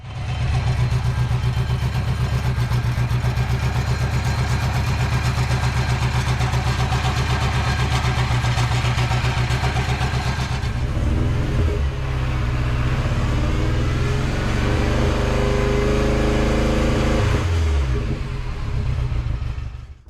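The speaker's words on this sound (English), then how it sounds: "Runs pretty rough. Muffler's gone." A Mini Cooper R56 with the N14 engine runs rough and unmuffled, making a loud, close, throbbing exhaust rumble that holds steady, then shifts to an uneven lumpier idle partway through before cutting off.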